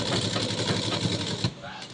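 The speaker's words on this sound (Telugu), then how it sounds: "ఇదో ఇప్పుడైతే ఇలా కుడుతున్నాను అన్నమాట" A sewing machine stitches a dress with a fast, steady mechanical whirr and chatter for about a second and a half, then stops, leaving a quieter room.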